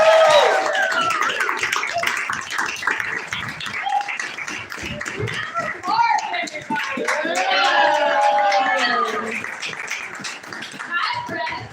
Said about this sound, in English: Give a big round of applause for Newspaper Podcast.